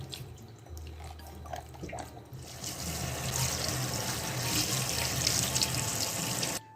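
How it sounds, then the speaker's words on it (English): Water from a kitchen tap runs and splashes as peeled onions and seasonings are rinsed, the flow growing stronger and fuller partway through, steady and close with no talking. "I'm just here, just washing them out really quickly, and then we're gonna cut them up"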